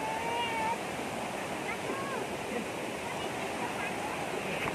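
A waterfall at Lang Voku in Karbi Anglong, Assam, gives a steady, broad roar of falling water that holds constant throughout, with faint voices in the background.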